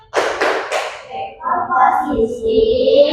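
A group clapping game in a classroom: three sharp, evenly spaced claps ring out near and loud, followed by voices chanting and speaking.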